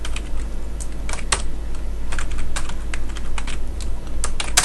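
Someone types on a computer keyboard into Notepad, with rapid, steady key clicks and occasional heavier taps, close and alone over a faint low hum.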